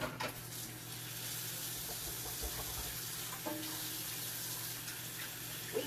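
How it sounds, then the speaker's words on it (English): A faucet runs steadily while hands are washed at a kitchen sink before cooking hamburger steaks, a continuous hiss of water throughout with a few faint clatters, close by and alone. "So let me wash my hands."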